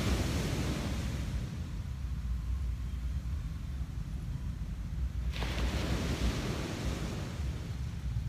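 Ocean waves on a beach roll in as a loud, continuous broadband wash, swelling and fading with steady surf noise and some wind rumble, no voices.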